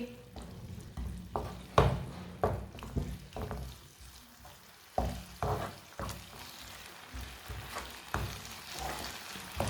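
Chicken, macaroni and vegetables being stirred with ketchup and chili sauce in a pan, with repeated scraping spoon strokes over a steady sizzle, close and moderately loud, and no talking.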